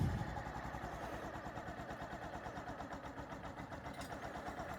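A Hero Splendor motorcycle engine pulls away in first gear with a steady, rapid thumping putter that stays even throughout, fairly faint and with no voices.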